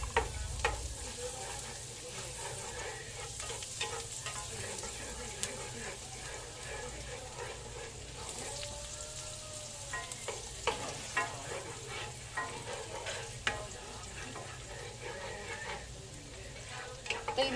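Garlic frying in butter in a pan, a steady close sizzle and crackle with occasional stirring scrapes, continuing evenly throughout.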